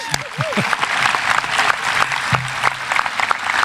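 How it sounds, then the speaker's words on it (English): An audience at a high school commencement ceremony applauds with steady, dense clapping throughout, with a few whoops rising above it. "Let's give that a round of applause"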